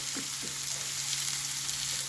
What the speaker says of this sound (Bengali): এই ঘিয়ের মধ্যে সুজিটা ভেজে নিচ্ছি।